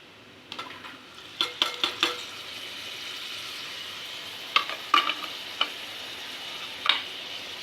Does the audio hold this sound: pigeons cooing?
no